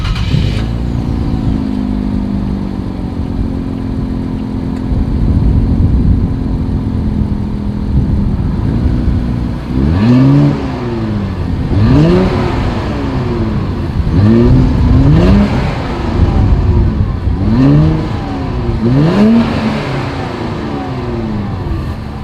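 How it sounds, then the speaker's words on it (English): A 2020 Infiniti Q60 Red Sport 400 idles with a deep exhaust burble, then revs hard several times in quick bursts, each rising and falling, loud and close. "here is that exhaust clip."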